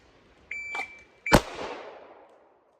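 A dry-fire pistol drill opens with a shot timer: one short electronic beep, a second beep, then a sharp close snap that decays quickly into silence.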